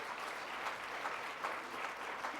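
Steady applause fills a hotel event hall, a dense even wash of many hands clapping at moderate volume with no voices rising above it.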